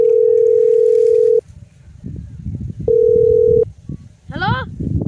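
A telephone dial tone sounds as a steady, loud, continuous tone while a call is placed, then a second identical burst after a pause. Low voices murmur in between, and a short warbling electronic chirp comes near the end.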